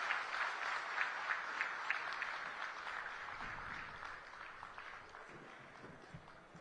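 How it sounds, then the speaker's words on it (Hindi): A crowd at a hospital inauguration event in India claps to welcome the chief minister, a fairly distant, continuous wash of applause that gradually fades toward the end, with faint voices underneath. "एक बार जोरदार तालियां बजाकर आइए उनका स्वागत करते हैं।"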